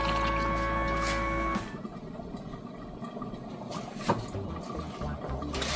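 A short splash of water pouring into a pot of Ghanaian waakye rice and beans, followed by soft bubbling and liquid sounds, with faint clinks.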